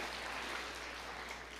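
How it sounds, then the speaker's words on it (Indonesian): A church congregation claps together during an Indonesian sermon, a steady, faint wash of applause heard from a distance that holds without a break. "Berikan tepuk tangan yang meriah buat Tuhan."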